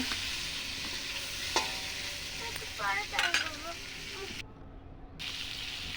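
Spices tempering and frying in a pan for a vegetable curry, a steady broadband sizzle with occasional stirring clinks, while a voice speaks briefly over it partway through.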